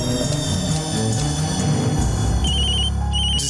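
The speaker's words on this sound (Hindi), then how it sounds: "अब चमेली, भैया को फोन लगाओ।" Telephone ringing while a call is placed, a steady electronic ring pattern with tonal beeps over a dense background of music, loud and without speech.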